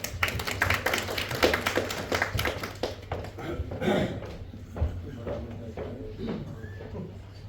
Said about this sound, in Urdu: اس کے ساتھ تالیوں میں مشتاق اللہ شاعری صاحب.